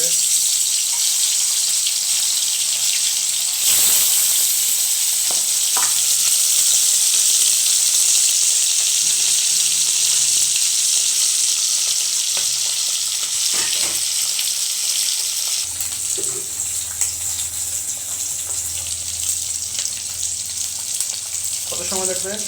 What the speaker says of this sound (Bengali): তেল গরম হচ্ছে, ইলিশ মাছ ভাজি হবে।